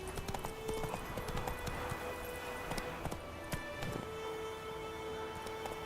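Horse galloping in the video game The Witcher 3, a steady rapid clip-clop of hooves under a background hum, with no talk.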